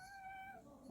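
A house cat, sleeping nearby in a room where a philodendron is being repotted, lets out a single clear, drawn-out meow with a steady tone that drops at the end. It is close and fairly quiet, and nobody speaks.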